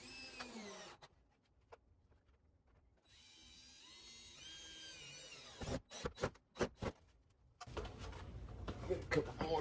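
A power drill drives screws into a vintage mobile hospitality camper bar, with short whirring bursts and pauses between them, close by, while a person talks in the quieter gaps.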